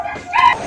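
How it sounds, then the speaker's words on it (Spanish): A dog gives a single short, high yip or bark, close and fairly loud, after a brief faint whine, with no one talking. "los perritos están ladrando"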